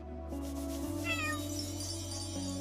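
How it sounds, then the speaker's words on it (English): A video game cat in Chained Echoes gives a faint meow over steady game music, a short thin cry set against sustained background tones. "Good kitty."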